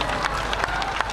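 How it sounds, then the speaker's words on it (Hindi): A crowd at a BJP political rally in Shillong, Meghalaya, applauds and cheers in a dense, continuous wash of clapping with no break. "ये के लिए आप लोग को ताली बजाओ।"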